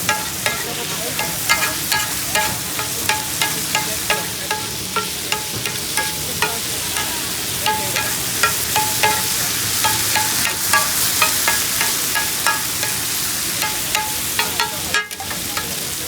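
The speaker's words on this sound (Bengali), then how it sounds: "এটা এখন আমি বাগার দিচ্ছি" Spices crackle and sizzle in hot oil as baghar for Bihari kebab at a roadside stall, a steady dense fry with frequent sharp stirring clinks, loud and close, with no voices.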